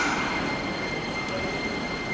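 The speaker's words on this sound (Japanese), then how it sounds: "寝台特急カシオペア札幌行きが参ります。" The Cassiopeia sleeper express, hauled by an EF81 electric locomotive, rolls into Utsunomiya station with a steady loud rumble and a thin, sustained wheel squeal running throughout; no voices.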